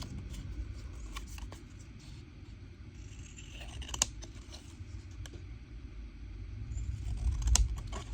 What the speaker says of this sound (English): And then we're going to cut out our stamps.